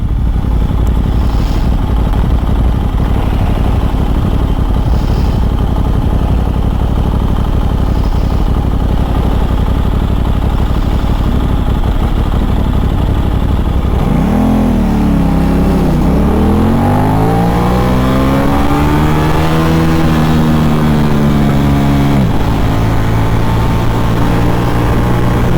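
A 2023 Aprilia RS660 street bike engine runs loud and close, holding a steady drone before climbing into rising and falling revs, then settling back toward a high, sustained whine.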